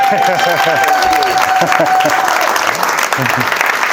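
A round of applause from the audience at the Cambridge Buzz event after a presentation, steady dense clapping with voices talking over it throughout.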